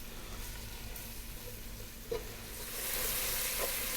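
Carrots and green beans sizzle in a pan over medium heat, a soft steady crackle that swells louder toward the end, with a brief clatter of stirring partway through and no speech.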